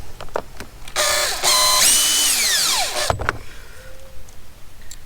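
A power drill drives screws into a plastic Uenjoy 12V two-seat kids electric motorcycle during assembly, giving two loud whirring bursts with the pitch rising and falling, followed by faint clicks and handling noises, with no talking.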